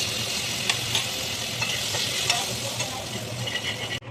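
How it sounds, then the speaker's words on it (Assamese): Spices with turmeric frying on low heat in a pan, giving a continuous even sizzle with a few brief stirring clicks, close and steady until it cuts off at the end. "এনেদৰে অকণমান কম জুইত ভাজি থাকিব"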